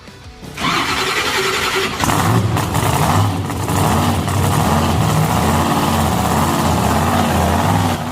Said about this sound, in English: by the sounds of it, El Toro Loco is started up and running